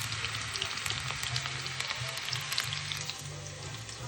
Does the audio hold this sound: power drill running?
no